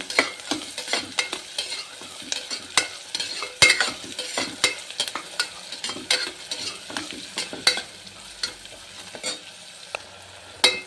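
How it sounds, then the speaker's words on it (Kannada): Finely chopped onions fry in a pan for a chicken kurma with ghee rice, a steady sizzle broken by frequent sharp scrapes and clicks of a spoon stirring against the metal, close and fairly loud with no voices. "ಈರುಳ್ಳಿ ಸಣ್ಣದಾಗಿ ಹೆಚ್ಕೊಂಡು ಚೆನ್ನಾಗಿ ಫ್ರೈ ಮಾಡಬೇಕು"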